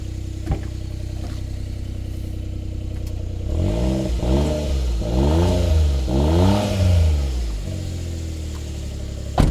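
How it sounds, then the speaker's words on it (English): Suzuki Jimny fitted with a loud aftermarket exhaust, idling before three rising revs in quick succession that climb and drop back, then settling to idle again, close and alone with no voices. "Rev it up."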